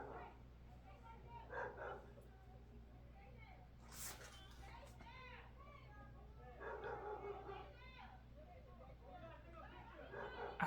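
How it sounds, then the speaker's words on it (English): An agitated dog barks, yips and whimpers in short bursts while people talk nearby. "I'm trying to figure out what's happening with the dog. I guess the dog is like getting agitated."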